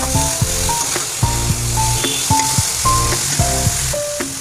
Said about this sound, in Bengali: ধনেপাতাগুলোও একটু তেলে নেব